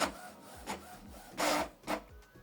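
A Canon Pixma TS7550i inkjet printer prints a document, with soft rhythmic mechanical whirring and two louder bursts of paper feed noise, close and alone without talk.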